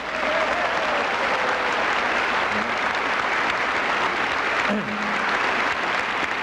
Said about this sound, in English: let's really give him another round of applause